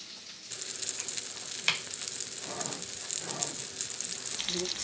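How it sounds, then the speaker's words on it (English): Meat sizzles and crackles steadily in a hot pan, a close, continuous frying hiss with brief stirring scrapes. "You can probably hear it starting to coat or starting to sizzle."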